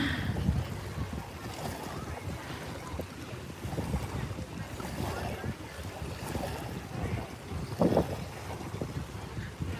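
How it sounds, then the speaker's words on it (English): Ocean waves wash and rumble steadily against a boat at the beach amid gusty wind noise, with a brief louder splash near the end. "We're literally just listening to the waves."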